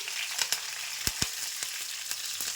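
Urad dal, curry leaves and green chillies fry in hot oil with a steady close sizzle, broken by a few sharp pops and stirring clicks; no one speaks.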